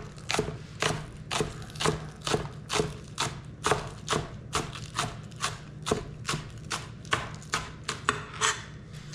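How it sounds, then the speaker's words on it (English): A knife slices food on the diagonal into quarter-inch pieces on a cutting board, with a steady, even run of close, crisp chops at about two per second and no talking. "now we're going to cut them about a quarter of an inch thick"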